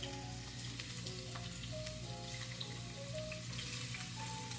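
Marinated shrimp fry in a hot pan, a close steady sizzle with light crackling and popping that continues evenly without any talking.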